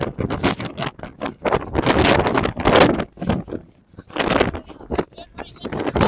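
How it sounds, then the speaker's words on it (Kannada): Strong wind gusts buffet the microphone on a cloud-covered hilltop during a temple trek in Karnataka, roaring in uneven bursts with brief lulls, close and loud, with excited voices talking over it. "ಗಾಳಿ ಹೆಂಗೋ ಬೀಸ್ತಾ ಇದೆ ಇದು"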